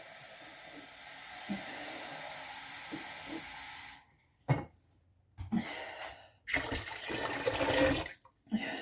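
Tap water pouring steadily into a big soup pot, a loud hissing stream that cuts off, followed by short bursts of running water and clatter.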